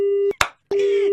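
A phone busy tone after a call is hung up: a steady, clear beep that cuts off into a brief clatter and silence, then resumes, loud and close.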